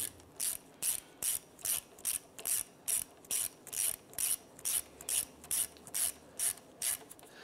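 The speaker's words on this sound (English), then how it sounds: "we're going to go ahead and snug that bolt down" A hand ratchet snugs down the bolt on a rear ABS wheel speed sensor of a 2005-2007 Ford Five Hundred, clicking in steady, evenly spaced bursts, about eighteen strokes, close and crisp with no talking.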